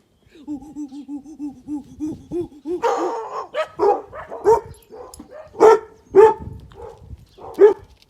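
A person makes hooting, howling sounds and then a run of gruff barks, imitating a dog, close and fairly loud.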